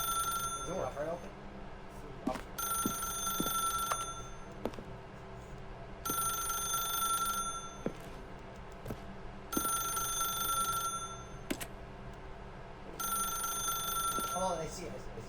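A telephone rings repeatedly in The Stanley Parable: Ultra Deluxe, several bursts of bright electronic ringing spaced about two seconds apart with short gaps, loud and clear over a faint background of game ambience.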